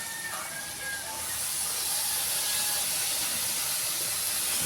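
Tomatoes hit a hot pan while cooking fish for bagoong, giving a steady, broad sizzling hiss that swells after the first second and holds loud and even to the end.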